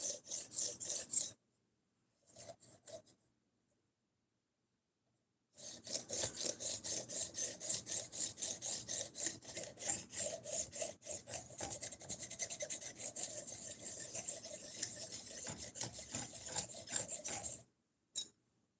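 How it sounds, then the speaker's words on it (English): A knife blade is drawn repeatedly across a sharpening stone in quick, even rasping strokes, close and loud. A few short bursts come first, then a long unbroken run of steady scraping passes follows after a pause. "this amazing knife that I'm sharpening right now"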